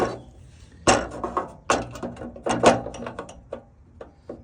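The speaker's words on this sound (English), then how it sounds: "the next job is we're going to screw the mechanism on, and then we'll attach that to the columns" A Bliss 3m x 3m pergola mechanism being slotted into a hole and fixed with screws gives a series of hard clunks and ratchety clicks at close range, irregular and fairly loud, with no talking.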